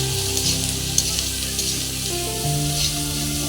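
Spice paste made with onion paste and whole garlic cloves sizzles steadily in a hot pan, a close, continuous frying hiss with small pops, under faint tonal background music.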